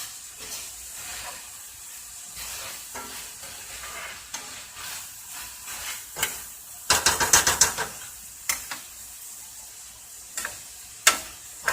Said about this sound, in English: we're going to cook the peppers and the onion down a little bit before I start adding my liquids